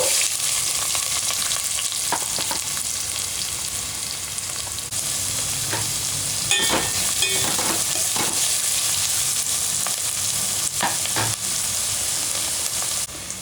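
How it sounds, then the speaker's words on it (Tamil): Onions sizzle in hot oil with fennel and cumin for a Tamil vadai kuzhambu, a steady frying hiss broken by a few clinks and scrapes of a spoon stirring the pan, with no voices. "வெங்காயம் போட்டுக்கலாம்."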